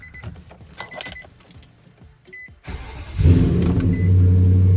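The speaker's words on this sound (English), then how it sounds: "so we're gonna start the truck." A Nissan Titan pickup with a 5.6L V8 and low oil pressure starts: keys jingle and click, a brief starter crank, then the engine catches and settles into a loud, steady idle up close.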